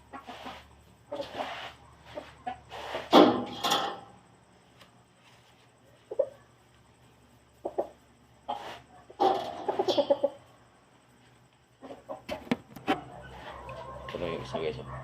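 Boston Roundhead gamefowl roosters cluck in short scattered bursts, near and fairly loud, with quiet gaps between calls and someone talking at times.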